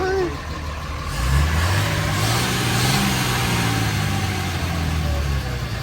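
A mega cab diesel truck with a gooseneck hitch, at a dealer auction, fires up and settles into a steady rumbling idle, loud and close, with outdoor background noise.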